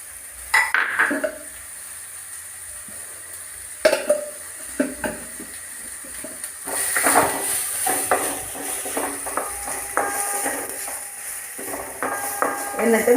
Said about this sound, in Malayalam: എന്നിട്ട് നല്ലോണം വഴറ്റുക.